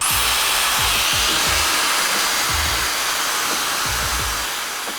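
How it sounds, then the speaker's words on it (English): A hair dryer blows loudly and steadily, its airy roar filling the whole clip, with faint low thumps underneath. "Pay attention how I use blow dryer."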